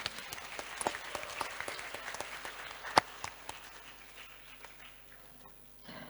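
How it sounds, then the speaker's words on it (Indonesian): An audience at a talk show applauds, a dense patter of many hands clapping at moderate distance that gradually thins and fades toward the end. "Tepuk tangan dulu untuk kita semua."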